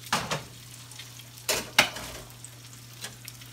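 Trout fillet for sautéed trout meunière with almonds sizzling faintly in a frying pan, a low hiss broken by a few sharp bursts of spattering, with no talk.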